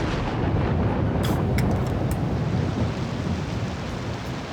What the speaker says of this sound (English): Where's the rain coming from?